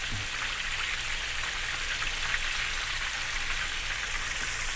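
Chicken pieces frying in a pan of hot oil, a steady dense sizzle and crackle that holds at an even level throughout with no talk over it.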